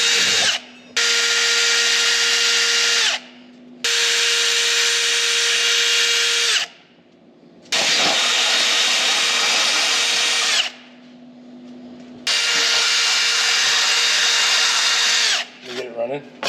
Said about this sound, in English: we're gonna drill some holes in these